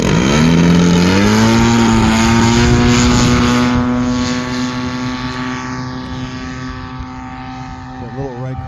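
A Hangar 9 20cc gas-powered P-51 Mustang RC plane takes off, its loud droning engine rising in pitch at full throttle, then slowly fading and thinning as the plane climbs away into the distance.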